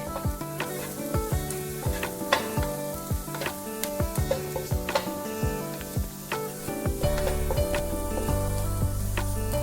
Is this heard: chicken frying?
yes